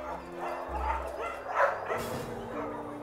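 A dog barks and yips in an animal pound, a few close barks and whimpers over a steady background hum.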